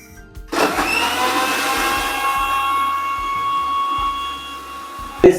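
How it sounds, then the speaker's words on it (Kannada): A mixer grinder blending watermelon juice whirs into a loud, steady blend after a brief quiet start, running continuously with a sharp knock near the end. "ಇನ್ನು ಸ್ವಲ್ಪ ಒಂದು ಮಿಕ್ಸಿಯಲ್ಲಿ ಇದು ಮಾಡಬೇಕು"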